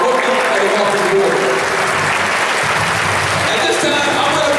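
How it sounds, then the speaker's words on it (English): Loud, sustained applause from an audience standing for rookies at an Ameriplan 2012 Rookie of the Year event, a dense unbroken wash of clapping with some crowd noise mixed in. "Let's give them a round, stand up, give them a round of applause"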